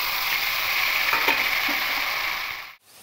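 Onion paste and tomato paste hit hot oil tempered with cinnamon, cloves and cardamom for a fish-head kalia, letting out a loud, steady hiss that fades and cuts off near the end.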